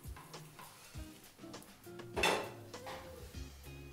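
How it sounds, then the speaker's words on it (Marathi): A moong dosa is lifted from the pan and set onto a plate, giving a few light clinks and scrapes of utensil against dish, quiet and close, with no talk. "प्लेट मध्ये काढून घेऊ."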